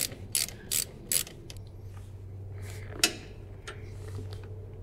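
Quick ratcheting clicks from a hand tool loosening 10 mm bolts and nuts on battery terminals: three short bursts close by, then a few fainter clicks and a single sharp knock against a low background hum.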